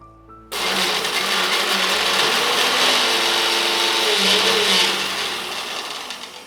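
A mixer grinder powders cumin seeds. It kicks on abruptly after a brief quiet start, then whirs loudly and continuously for about six seconds before tapering slightly.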